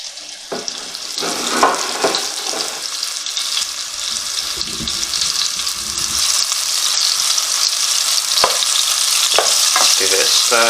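Beef for a stew browns and fries in oil in a pan, a continuous loud sizzle that builds steadily, punctuated by the clatter of stirring.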